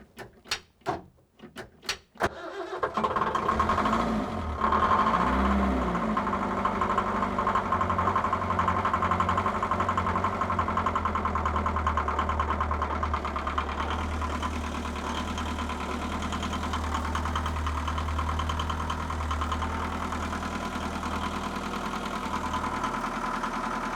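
A narrowboat engine cranks with a few sharp bursts, then settles into a steady, loud tick-over idle with a low rhythmic thrum and faint mechanical knocking running on alone.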